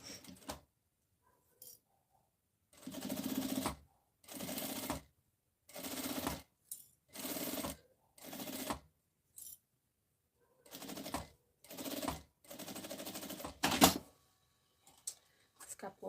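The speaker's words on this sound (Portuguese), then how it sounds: "E agora eu vou costurar a alça." A sewing machine stitches a handle onto a fabric bag in short repeated bursts of rapid mechanical chatter, about a second each, separated by pauses, close and fairly loud.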